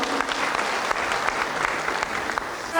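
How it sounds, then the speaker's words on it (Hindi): An audience claps continuously and energetically, a dense and even burst of applause throughout. "एक और बार जोरदार तालियां हो जाए एवरीबॉडी"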